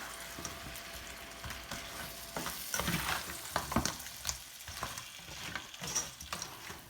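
Crab masala stirred as it fries in a pan, a low sizzle under repeated scraping and clattering of a spoon against the pan, close and moderately loud, with no talk.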